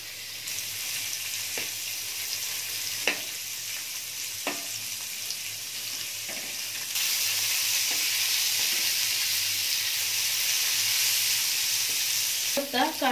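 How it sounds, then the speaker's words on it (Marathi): Onion frying to golden in a pan for a dhaba-style egg masala, a steady hissing sizzle that grows louder partway through, with a few spoon taps and stirring scrapes close by. "कांदा आता छान भाजलेला आहे."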